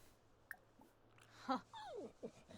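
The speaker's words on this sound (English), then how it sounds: "Let's offer some friendship to this dog." Short whimpers and yips from a dog in The Sims 4, a quiet tick and then a few rising whines closely spaced near the end, fairly faint over a low steady hum.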